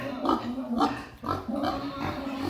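Pregnant native pigs on a farm grunting and oinking in short repeated bursts, fairly close, with a voice talking faintly underneath.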